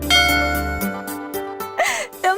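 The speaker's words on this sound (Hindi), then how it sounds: "देखा दूरभाष वहाँ बज रहा है" A telephone rings with a repeating bell-like electronic chime that pulses steadily, followed by brief voice-like sounds near the end.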